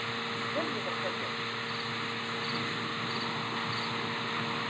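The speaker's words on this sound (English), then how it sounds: "This is a cricket." A recorded cricket chirp played from a Google smart speaker indoors, a thin continuous high buzz running steadily under faint room hum, with no speech over it.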